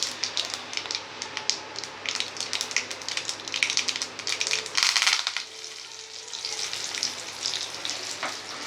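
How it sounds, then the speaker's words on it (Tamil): Mustard seeds, urad dal and curry leaves crackle and splutter in hot oil for a coriander seed chutney tempering, a dense close sizzle with rapid pops that surges loudly midway, then settles to a hiss. "இப்போ கடுகு, உளுந்தம்பருப்பு, கடுகு பொரியவும் கொஞ்சம் கருவேப்பிலை"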